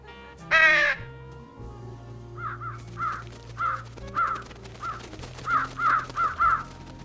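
Crows caw in the Trüberbrook video game: one loud harsh call, then a steady string of shorter caws repeating about every half second, fairly close over a low ambient hum.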